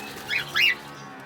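Cockatiels in an aviary give two quick, bright chirps in succession, moderately close, over a low steady background hum.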